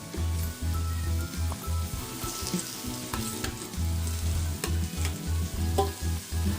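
Roasted, mashed eggplant is stirred into sautéed spring-onion masala for Khandeshi bharit, giving repeated close scraping strokes over a soft, continuous sizzle with a few clicks of the spoon, and no voices.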